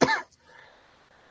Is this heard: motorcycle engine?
no